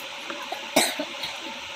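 A single sharp cough stands out near the middle, brief and close, against a quiet, steady background hum.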